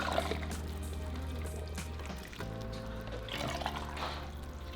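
Beef broth pours into cups for caldo de res, a steady liquid stream with gurgling changes in pitch, close and continuous for a few seconds.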